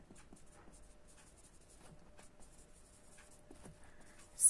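A maths solution being written by hand, soft close pen scratches and taps in an irregular rhythm over a quiet background, with a brief louder noise at the very end.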